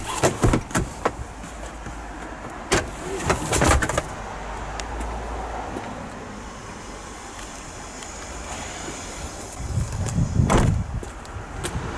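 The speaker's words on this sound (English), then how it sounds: "These releases fold down the rear seats, which I'll demonstrate now" Rear seats of a 2019 Peugeot 308 SW 1.2 PureTech estate fold down with sharp latch clicks and thumps early on, followed by a quieter interval and a heavier thud near the end.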